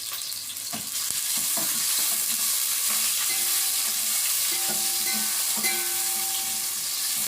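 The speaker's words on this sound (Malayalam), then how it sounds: "സവാള ഇളക്കി കൊടുക്കണം." Sliced onions fry in hot oil in a pan for Mughlai biryani, a steady close sizzle broken by repeated scraping and clinking strokes of a spoon stirring them.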